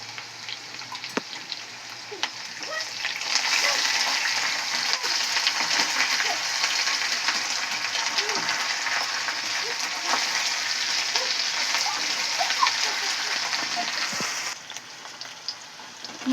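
Ginger-garlic paste and masala fry in a pan with a steady, dense sizzle that swells after a few seconds and holds, with scattered crackles and soft pops, close and fairly loud, no talk.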